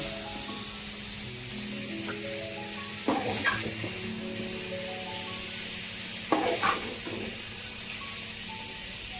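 Nilotica fish fry in hot oil, giving a steady soft sizzle throughout, broken twice by brief louder scraping stirs; faint and continuous, with no talk.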